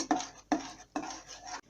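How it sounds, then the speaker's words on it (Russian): Berry puree with pectin being stirred in a pot, three quick scraping strokes of a spoon against the metal with short pauses between, close and moderately loud. "Теперь мы всыпаем пектин и размешиваем."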